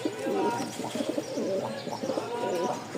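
Pigeons of a Rajshahi flying breed coo in repeated throaty, rolling phrases at close range, several overlapping calls in a steady rhythm with faint background noise.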